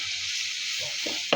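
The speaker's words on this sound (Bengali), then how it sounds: "হলুদ, মরিচ, লবণ, ধনিয়ার গুঁড়ো দিয়ে আরও কিছুক্ষণ সময় আমি ভেজে নিব" Small shrimp frying in a pan with turmeric, chili, salt and coriander powder, giving a steady broad sizzle with a few soft stirring scrapes and a brief louder clack near the end.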